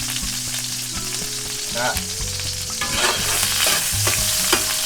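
Garlic and onion sizzle steadily in a hot pan while being stirred, with scraping clinks of a utensil over a continuous frying hiss, for a Cebu-style sautéed vegetable dish with fried pork.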